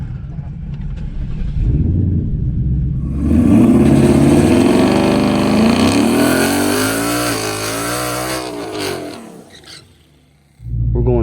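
A twin-turbo 2020 GT launches on a dragstrip running 93-octane pump fuel, its engine roaring loudly and rising in pitch through the gears. The roar cuts off abruptly near the end, then briefly picks up again.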